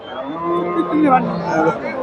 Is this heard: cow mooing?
yes